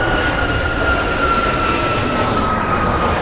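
American Airlines jet at Phoenix Sky Harbor airport, a loud constant broadband roar with a faint steady whine, no voices.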